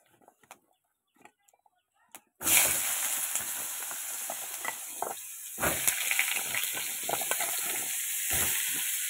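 Pumpkin and potato pieces frying in ghee: after a couple of seconds of faint clicks, a loud, close, continuous sizzle bursts in and holds steady, with occasional stirring scrapes.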